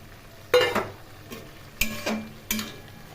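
Poppy seed paste being stirred into boiled bitter gourd and potato in a pan, a few distinct scraping stir strokes with a spoon against the pot, close and moderately loud with quiet gaps between.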